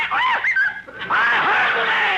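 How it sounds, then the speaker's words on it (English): A parrot in an old time radio comedy squawks loudly and close, a pair of sharp screechy calls followed after a short gap by a longer, wavering squawk. "that parrot sure gets on my nerves shooting off his mouth"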